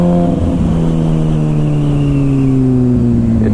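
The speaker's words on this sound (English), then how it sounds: "It's running like a beast." A 2007 Suzuki GSXR 600 sportbike on a cold, wet test drive, its engine pulling loudly and close with a sustained tone that slowly drops in pitch as it eases off, nothing else over it.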